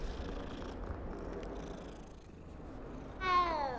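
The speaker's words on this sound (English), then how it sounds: "So you can pet the cat" A cat in Hogwarts Legacy purrs in a low steady rumble while being petted, then lets out a clear rising meow at the end, close and alone without speech.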